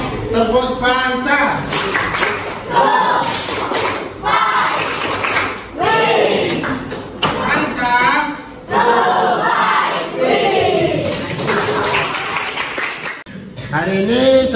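Schoolchildren in an Indonesian science classroom chant together in loud, rhythmic bursts, punctuated by sharp group claps in repeated patterned phrases, with brief pauses between sections.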